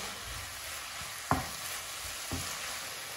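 Leeks cook in a pan with a soft, continuous sizzle while a utensil stirs them, giving a couple of brief scraping knocks against the pan; no voices.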